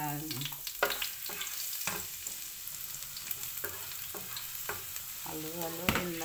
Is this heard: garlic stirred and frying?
yes